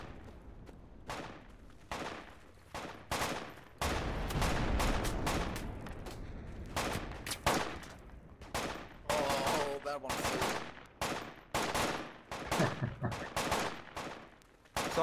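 Video game gunfire crackles in rapid repeated bursts and single shots across the whole stretch, with heavier explosive blasts mixed in, loud and close, and voices talking faintly beneath.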